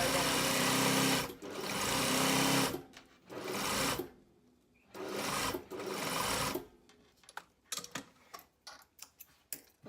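A domestic sewing machine stitches a seam on a shirred jumpsuit in bursts of rapid, close whirring, pausing between runs, then finishing with a series of short clicking stops.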